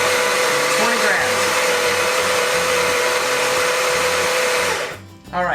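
Electric coffee grinder whirs steadily and loudly while milling 20 grams of coffee beans for an AeroPress, a constant high motor drone that cuts out near the end, followed by a brief rattle.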